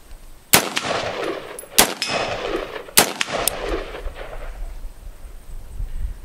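An AR-15 rifle fitted with a Sharps Relia-Bolt fires four sharp, loud gunshots at uneven intervals outdoors, each crack followed by a brief rolling echo.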